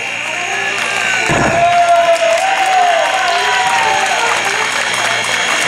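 Wedding guests at an outdoor dance in Laguna Seca, Zacatecas, applaud in the rain. The clapping is steady and moderately close, with crowd murmur and a little cheering mixed in.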